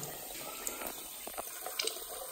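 A hot water tap runs in a bathroom with a steady, quiet splash and trickle of water. Small droplet bursts are heard and there are no voices.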